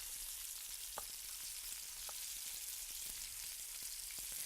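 Sliced steak sears in a pan with a faint, even crackling sizzle, scattered small pops breaking through the continuous hiss, no voices.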